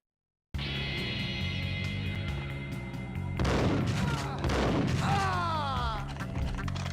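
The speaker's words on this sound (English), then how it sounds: "He has a grenade launcher." Grenade launcher firing in the Max Payne shooter game, heavy booming blasts and crashing impacts over a tense music bed, with two loud bursts following a steady stretch.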